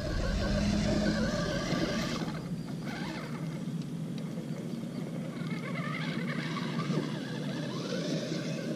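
Axial SCX10 II RC crawler truck with an Injora transmission runs with a faint, quiet electric drivetrain whir that rises and falls with throttle changes, close by.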